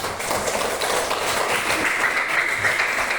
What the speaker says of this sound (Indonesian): silakan beri tepuk tangan untuk kelompok 4